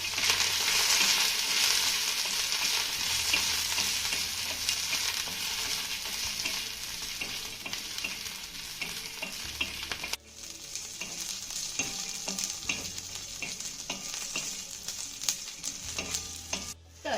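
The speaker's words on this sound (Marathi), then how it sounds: "इथे आपल्या मिरच्या लसूण शेंगदाणे मस्त असे खरपूस भाजून झालेले आहेत" Peanuts, green chillies and garlic roasting in a pan, a continuous close sizzle with regular scraping and rattling as a spatula stirs them, a brief drop partway before the frying and stirring resume.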